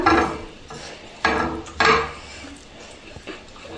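Pieces of chicken get mixed with soy sauce in a bowl, giving a few clattering scrapes and knocks of a utensil against the dish, close up with quieter stirring between.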